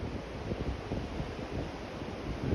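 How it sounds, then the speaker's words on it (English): Storm wind gusts steadily against the microphone during a tornado watch, a faint, broad rushing roar with no voices. "You can see, see how windy it is."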